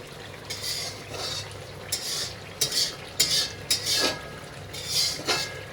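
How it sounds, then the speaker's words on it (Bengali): A spice mix for cabbage fries in oil in a pan under a low sizzle, broken by several sharp scraping stirs and metal clinks from a utensil; no speech. "বাঁধাকপির জন্য মশলাটা সুন্দরভাবে একটু ফ্রাই করে নিতে হবে"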